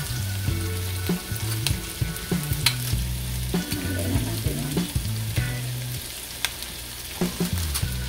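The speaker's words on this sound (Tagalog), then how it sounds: "Tapos, ilalagay ko na yung isda." Tulingan fish fries in hot oil in a pan, a close, steady sizzle with crackles and spatters, overlaid by a continuous low electronic hum.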